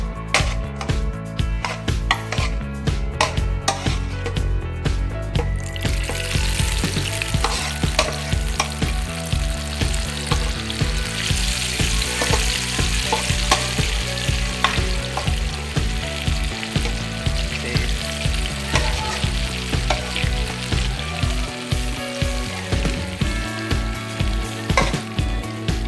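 Potato chips frying in hot oil in a home kitchen, a dense continuous sizzle with occasional stirring clinks, close and steady throughout with no talk.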